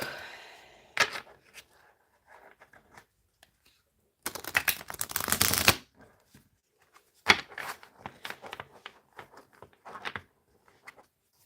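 A tarot card deck being shuffled quickly by hand, with several bursts of riffling and a loud, dense shuffle in the middle, plus scattered card taps between them, close and without talk.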